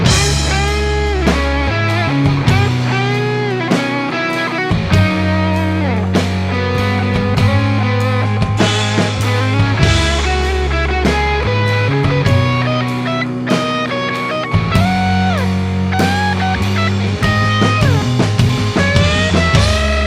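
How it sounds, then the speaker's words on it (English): Rock and roll guitar rings through a Fender Tone Master Deluxe Reverb amp, with driving chords and lead phrases over a steady groove, loud and continuous for the whole passage with no talking. "What you just heard is what I'm hoping to be able to do with this amp, and that's playing some good old rock and roll."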